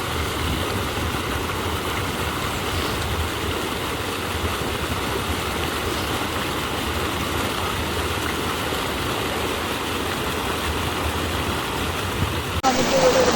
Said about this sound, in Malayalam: ഭയങ്കര ഒഴുക്കായുണ്ട്